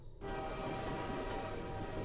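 Train car rolling in the video game Transmissions: Element 120, a steady loud rumble with a constant low drone and faint rhythmic clatter that starts abruptly after a brief quiet moment and holds throughout.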